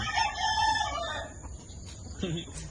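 A rooster crows once nearby, a loud drawn-out call that trails off, followed by faint background noise and a brief low sound.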